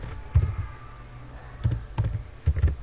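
Someone types HTML list items on a computer keyboard in a few short bursts of close key clicks, separated by brief pauses in a quiet room.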